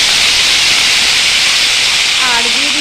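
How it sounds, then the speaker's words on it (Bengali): Cut potatoes hit hot oil in a kadai already tempered with dry red chillies and black cumin, a loud, close, continuous sizzling hiss that holds steady throughout, with a brief voice near the end. "এর মধ্যে এখন আমি দিয়ে দিচ্ছি কেটে রাখা আলুগুলো"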